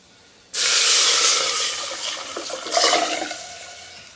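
Tamarind water mixed with spinach cooking water pours into a pan, a sudden loud rushing splash starting about half a second in and sustaining, with a second surge near the end, no talk.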